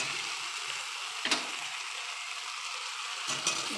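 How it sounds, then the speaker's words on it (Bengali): Spice paste fries in a pan for a katla fish curry with potato and pointed gourd, giving a steady hissing sizzle. Two brief scraping stirs break through it. "এখন মশলাটা ভাজবো।"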